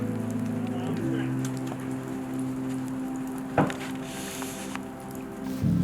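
Light rain patters on a surface outdoors at a forest attraction while a low engine-like hum drones underneath and a few sharper knocks break through.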